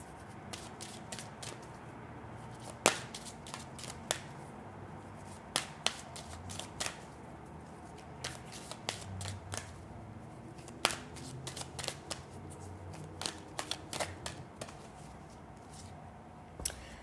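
Oracle cards from a flower-fairy deck are shuffled by hand for a Pisces reading, a long run of soft riffling and crisp card slaps at an irregular rhythm, close and quiet, with no voice.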